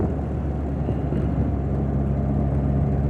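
An MG TF sports car drones steadily under light throttle, a low, even engine rumble heard from inside the car with no talking.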